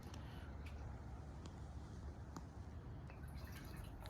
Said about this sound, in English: I'm just going to pour the fuel stabilizer.